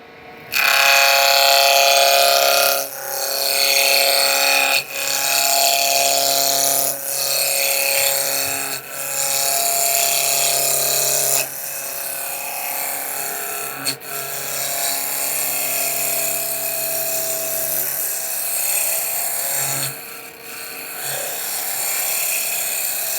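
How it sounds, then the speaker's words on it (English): Wood spindle spun on a lathe and cut with a spindle roughing gouge while making Kubb pieces, a continuous loud rasping, scraping roar in long passes with brief pauses, close and alone. "I like to use the spindle roughing gouge"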